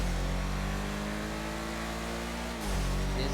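Ubermacht Sentinel XS4 sedan from GTA 5, modelled on a BMW M5, with its engine revving hard and climbing steadily in pitch before cutting off abruptly near the end, loud and up close.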